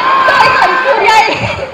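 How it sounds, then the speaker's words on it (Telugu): A crowd of fans at a movie promotion tour event shouts and cheers loudly, a dense wall of excited voices and whoops with a few higher cries rising over it throughout. "అంటే మీరు సూర్య అరుస్తున్నారు తమిళనాడు వినిపించలా?"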